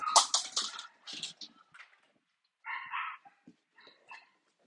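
A dog barks in the background in a few short bursts spread across several seconds, with quieter yips trailing off, fairly distant and alone without speech over it.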